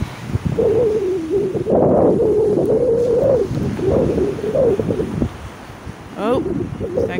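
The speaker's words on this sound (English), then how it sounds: "Very windy day" Strong wind buffets the microphone at a choppy seaside beach in Northern Ireland, rumbling steadily while someone talks over it.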